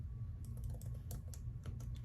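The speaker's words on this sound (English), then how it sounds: "So we will be typing in" Quiet, irregular keystrokes on a computer keyboard while a product name is entered during setup of a new HP ENVY 6455e all-in-one printer; soft clicks sit over a low background hum.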